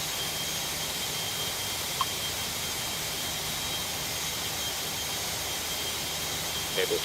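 A heavy UPS jet taking off at a busy cargo hub in the airport tower game Tower Simulator 3 gives a steady, broad roar of jet engines. The roar holds at an even level throughout, with a couple of faint blips and no speech.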